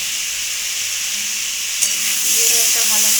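Banana flower curry seasoned with chilli powder and a little sugar fries in a pan, producing a loud, continuous close sizzle with a brief stir clatter and hissing swelling near the end.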